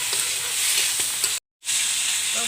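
Turmeric goes into a frying pan of oil while masala paneer is being cooked. Loud, steady close-up sizzling with stirring scrapes, broken by a brief silent gap, no talk.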